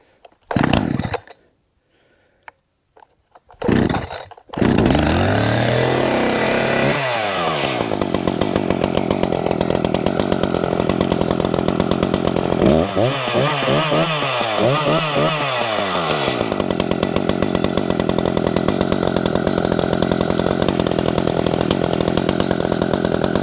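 Chainsaw left sitting for five months being started during tree cutting: a few sharp pull-start bursts, then the engine catches and runs loudly and steadily up close, with some throttle revving partway through.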